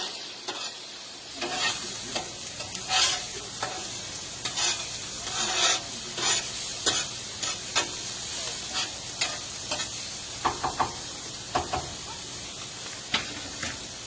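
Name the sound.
steak sizzling on a Blackstone griddle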